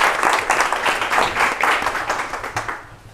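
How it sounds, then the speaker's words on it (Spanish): An audience applauds a speaker: a continuous wave of many hands clapping, fairly loud and close, sustained for about three seconds and tapering slightly at the end. "un aplauso para Carolina"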